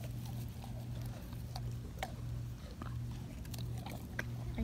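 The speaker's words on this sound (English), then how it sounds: "Are you just chewing on it?" A puppy gnaws on frozen dog ice cream, making quiet, irregular crunchy clicks and wet licks up close over a steady low background hum.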